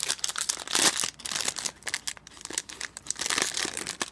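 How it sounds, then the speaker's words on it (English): Crinkling and tearing of a thin plastic blind bag from a vinyl mini mystery box, close up, in irregular bursts of rustling and ripping with short pauses between. "Nice little easy tear off on the top, if it tears right, and it didn't."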